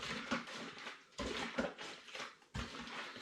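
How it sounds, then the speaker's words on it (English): A vessel of homemade ginger ale with finings added is shaken, making three bursts of sloshing liquid and faint clinking, close and quiet, spaced roughly a second apart. "I'm just going to give it a good shake to make sure it all mixes together"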